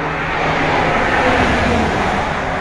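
Loud, steady roar of road traffic passing on a bridge overhead, heard from underneath, a continuous broadband rumble of cars with no breaks and no talking.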